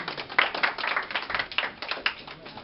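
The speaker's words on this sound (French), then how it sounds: "applaudisseren voor de dienaar van God" A church congregation claps for the servants of God entering, a quick uneven patter of many hands, moderately loud and continuous for a few seconds.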